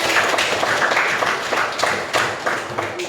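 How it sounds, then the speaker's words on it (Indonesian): Classroom clapping from a Year 10 economics class, a steady dense patter of many hands close by, continuous for the whole stretch with a few louder bursts. "Berikan tepuk tangan"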